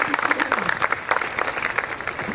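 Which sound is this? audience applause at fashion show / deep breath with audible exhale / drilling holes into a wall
audience applause at fashion show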